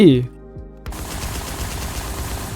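Loud, rapid automatic gunfire in the shooter game Warz, a sustained burst of close shots following a brief sound and a short silence.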